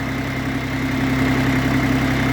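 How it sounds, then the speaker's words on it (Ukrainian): A Jinma 244 tractor engine runs steadily in first creeper gear, a loud, even diesel drone with a constant low hum and no talking. "Трактор тестують в мінімальній швидкісному режимі. Перша надпонижена."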